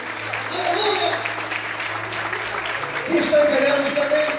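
Church congregation applauding during a Portuguese-language worship service, a steady wash of clapping throughout with voices and praise calls mixed in over a low hum.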